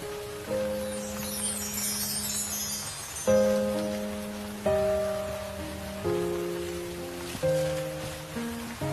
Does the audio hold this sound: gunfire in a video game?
no